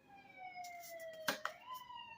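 An emergency vehicle siren wails outside in Brooklyn, a faint, distant tone sweeping slowly in pitch with a couple of brief knocks nearby, heard through a room.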